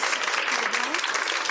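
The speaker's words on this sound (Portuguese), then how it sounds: "Fui recebida com palmas." Applause welcomes a mother, a chemotherapy patient, to a school class, with steady clapping from a group of children that continues under a voice.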